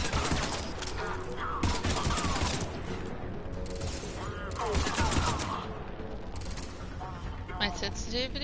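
Rapid bursts of gunfire from the video game Mass Effect 3 crackle through a dense, busy mix of battle noise, with a player's voice talking over much of it.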